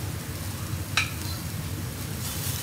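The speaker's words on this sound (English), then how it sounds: "saute it" Lettuce and spring onions sautéing in a pan for a high protein salad: continuous sizzling hiss close by, with one bright metallic clink of a utensil against the pan partway through.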